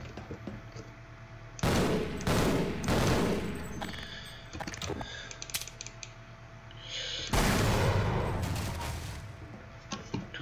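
Video game gunfire comes in two loud bursts of rapid shots separated by quieter mechanical clicks and rattles, with the second volley arriving near the end.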